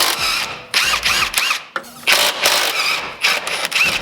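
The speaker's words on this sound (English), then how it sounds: "let's grab the impact, get those taken out" Impact wrench rattling off 17 mm motor mount nuts on a Nissan 350Z, loud close bursts of hammering whir in repeated short pulses with brief gaps between.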